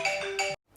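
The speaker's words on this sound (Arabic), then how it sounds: "سوري على صوت الموبايل." A mobile phone ringtone sounds in a home kitchen while fried fish is being prepared, a short two-part electronic chime, moderately loud, cutting off abruptly.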